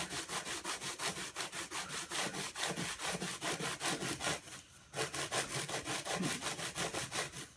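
A sanding block rubbed over a model aircraft flap makes steady, rhythmic back-and-forth scraping strokes, close and fairly loud, with a brief pause partway through.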